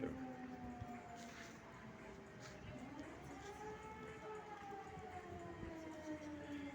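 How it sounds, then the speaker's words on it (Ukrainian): Air raid siren wailing over Kremenchuk in late July 2023, a steady distant rising-and-falling tone that persists for the whole span above a dense outdoor background. "Повітряна тривога в Кремінчуці."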